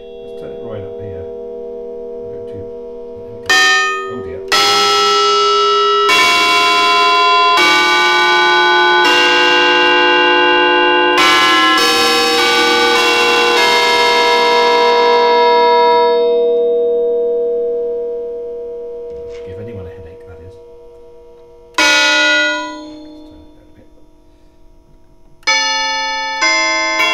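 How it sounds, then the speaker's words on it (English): A 1950 Deagan Canto Chimes electric bell carillon, played through a valve amplifier, rings out loud tubular-bell tones: a run of struck chimes with long ringing decays, then a quiet pause and a few further strikes. "It's a really great thing for obviously making bell sounds, tubular bell type sounds"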